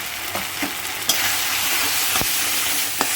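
Ground turmeric, chilli and cumin powder frying in a pan for a kudri (ivy gourd) dish, a steady loud sizzle with a few sharp scraping stirs of the spoon, no talking.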